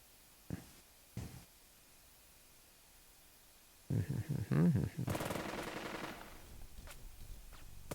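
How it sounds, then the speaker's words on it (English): Gunfire in the WWII strategy game Burden of Command during a night patrol: two sharp distant shots, then a close, loud burst of rapid machine-gun fire followed by continuing crackling shots. "At least they're shooting and not actually attacking."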